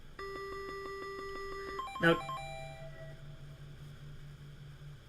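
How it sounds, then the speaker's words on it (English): A mobile phone notification chimes briefly with a rising tonal burst, cutting over game music, then leaves a low steady buzz behind; a voice speaks a word at the start. "that was my phone, I apologize. Forgot to put it on mute."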